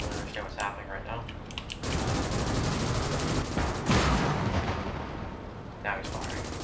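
Tank cannon fire and battlefield gunfire in Call to Arms - Gates of Hell Ostfront, a dense, continuous wash of distant shots and rumbling blasts with a few sharper reports, heard under occasional talk.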